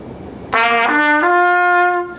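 A sustained piano triad chord rings out, its notes entering in quick succession and then holding and slowly fading.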